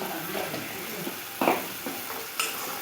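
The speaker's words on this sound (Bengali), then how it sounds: "দিয়ে খুব ভালো করে একসঙ্গে সব মশলাগুলোকে কষিয়ে নেব যতক্ষণ না তেল ছেড়ে আসছে" Spice paste with salt for lau kofta sizzles in hot oil while it is stirred, with a steady close frying hiss and a few sharper scrapes of the spoon against the pan.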